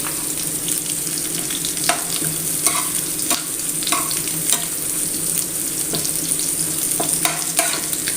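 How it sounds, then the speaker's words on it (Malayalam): Mackerel frying in hot coconut oil with curry leaves in a pan, a steady loud sizzle with intermittent stirring scrapes and clinks, no speech. "ഈ വെളിച്ചെണ്ണയിലൊന്ന് നല്ലോണം മൂപ്പിച്ചെടുക്കാം എന്നിട്ട് ആ മീൻ ഇതിലേക്ക് നന്നായി ഒന്നിങ്ങനെ പരട്ടി പരട്ടി എടുക്കാം"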